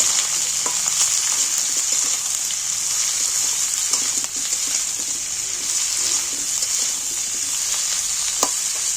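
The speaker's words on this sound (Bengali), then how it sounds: "পেঁয়াজ দুটো তুলে দিচ্ছি এর মধ্যে পেঁয়াজগুলো একটু ভেজে নিচ্ছি" Onions fry with potatoes in a pan, a loud, even, close sizzle that runs without a break, with light stirring scrapes now and then; no voices.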